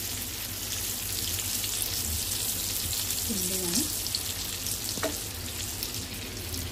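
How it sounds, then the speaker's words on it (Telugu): Oil frying steadily in a pan while cooking egg biryani, a continuous close hiss and sizzle with light stirring and a faint voice in the background. "ఇట్లా ఫ్రై చేసుకోవాలి."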